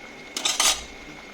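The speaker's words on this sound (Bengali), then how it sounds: "তো দেখো ঢাকা দিয়েছিলাম, এবারে ঢাকাটা খুলে দিলাম।" A metal lid lifted off a cooking pot of chilli mushroom chicken, giving a couple of short clinking, scraping metallic knocks close by, with no talking.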